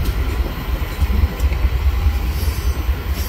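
KCS-led freight train pulling out of Vancouver station in Washington State: a low, steady rumble of rolling railcars with faint wheel clatter and squeal, continuous and moderately close.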